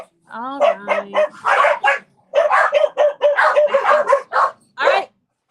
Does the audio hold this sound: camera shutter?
no